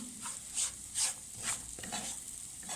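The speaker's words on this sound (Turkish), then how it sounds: "Devamlı karıştıralım ki dibi tutmasın" Semolina halva is stirred in a pan, with soft rhythmic scraping strokes about every half second over a faint background sizzle.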